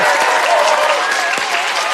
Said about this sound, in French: Julie Zenati, on applaudit, mesdames et messieurs.